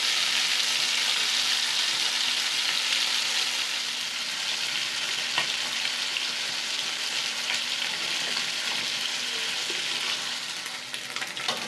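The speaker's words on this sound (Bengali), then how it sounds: "লাল লাল করে ট্যাংরা মাছগুলো ভেজে নেব।" Small tangra fish frying in hot oil in a pan, a steady bright sizzle and crackle running evenly throughout with no talk.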